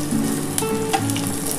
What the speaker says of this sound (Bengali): আমি একটু 5 ফোড়ন দিয়ে দিলাম, 2টো তেজপাতা দিলাম, আর এই যে শুকনো লঙ্কা ফোড়ন দিলাম